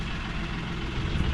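A manual BMW M2 with its exhaust fallen off idles with suspected rod knock, giving a steady, fairly quiet low rumble that holds evenly with no voices over it.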